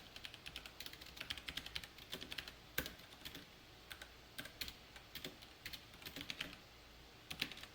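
Computer keyboard being typed on while writing Java code, quiet irregular bursts of clicking keystrokes with short pauses between, close and otherwise silent.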